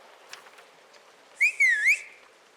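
A short, bright whistled phrase in the video game Cabernet, a clear tone that dips and rises over about half a second above a faint background.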